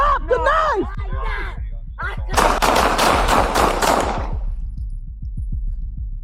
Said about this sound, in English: County shots fired.